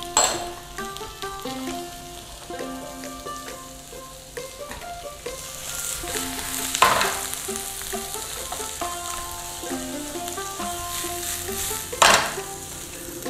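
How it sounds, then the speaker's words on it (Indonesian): Carrots and onion stir-fry in hot oil, a continuous close sizzle with occasional clinks of a utensil against the pan, while music plays underneath and no one speaks. "Kita mau tumis sayur-sayurannya."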